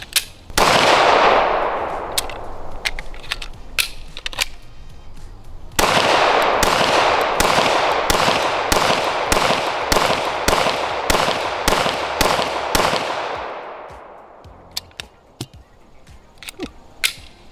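Shadow Systems CR920XP pistol firing at an outdoor range, a loud sharp shot, then a rapid string of about a dozen evenly spaced close shots with trailing echo, and a few fainter pops near the end.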